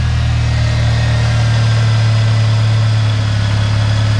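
A Chevrolet Cobalt engine idles right after an exhaust repair, heard close in the engine bay as a loud, steady, deep hum with a constant mechanical drone and no break.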